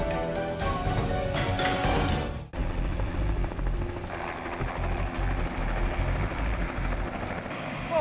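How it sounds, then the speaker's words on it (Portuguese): A helicopter flies over the Itaipu dam and lake area near Foz do Iguaçu, Brazil. Its rotor and engine drone is loud, close and continuous after a brief stretch of other sound at the start. "vamos pegar agora o helicóptero e sobrevoar essa área de Itaipu"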